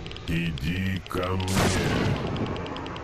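A Gauss rifle fires in Stalker: Shadow of Chernobyl, one sharp, loud crack with a metallic, mechanical edge. Someone talks over it.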